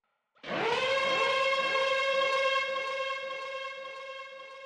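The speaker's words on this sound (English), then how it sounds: "For the siren effect, I simply used a siren preset from Splice. I put a ton of reverb and delay to make it act like some kind of pad." A synthesized siren preset swells in with a rising wail, then holds a steady, harmonically rich tone drenched in heavy reverb and delay that smear it into a sustained pad, slowly fading near the end, with no voices.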